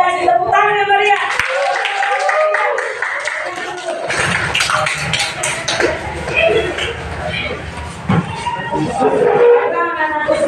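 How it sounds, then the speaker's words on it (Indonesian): Students in a classroom clap together in a lively burst of applause, mixed with voices and chatter before and during the clapping. "Kita kasih tepuk tangan yang meriah."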